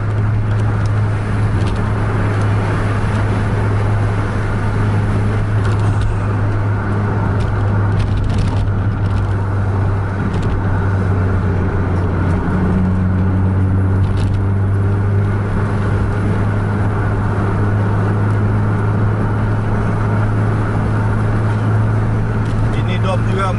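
A car engine is held at high RPM while the car is driven hard through corners, giving a loud, steady, close droning roar that runs unbroken throughout.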